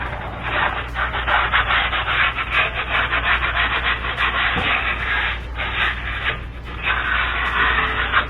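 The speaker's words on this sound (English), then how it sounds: "Just go around and kind of clean any rust that may have built up on there." A pad scrubbed against the rusty wheel bearing hub of a 2002 Toyota Camry, producing a continuous rough, raspy sanding sound in steady back-and-forth strokes, close and fairly loud throughout with no talking.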